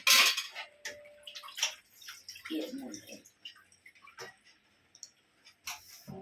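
Metallic clinks of a lid set onto a pot of brinjal kara kuzhambu, amid kitchen clatter and bubbling, with a voice speaking quietly in between.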